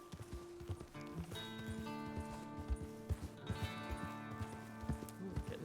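A horse in Red Dead Redemption 2 moves along at pace, hooves clip-clopping in a steady rhythm over a soft musical background, fairly quiet overall.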